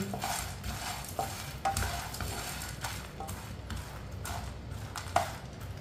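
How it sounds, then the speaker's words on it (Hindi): Chickpeas warming in a pan over medium heat, stirred steadily with a spoon, giving a continuous close scraping and rustling with a faint sizzle and occasional sharper clinks of the spoon against the pan. "मीडियम आंच पे इसे अच्छी तरह गर्म करना है चनों को।"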